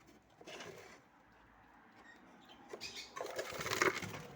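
Caged pet birds shuffle and flap their wings in short bursts, faint rustling patches near the start and a busier flurry toward the end, with no talking.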